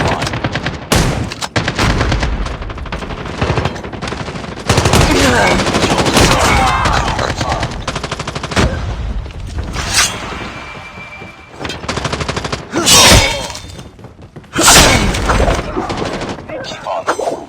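Loud, repeated shotgun blasts and rapid gunfire from a shooter video game, coming in dense clusters with short gaps, while game voice callouts are heard at times.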